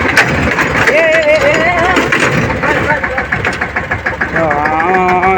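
A mini tractor's small engine runs steadily with a rapid, chugging pulse, close by, while someone talks over it throughout.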